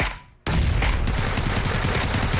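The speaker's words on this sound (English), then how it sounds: "He's shooting at someone else." Bursts of automatic gunfire from another player in the shooter game PUBG crackle loudly and steadily after a quiet start, a dense rapid rattle of shots filling the whole stretch.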